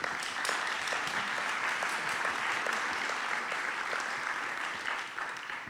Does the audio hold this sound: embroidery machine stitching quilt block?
no